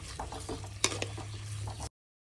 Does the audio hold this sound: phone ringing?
no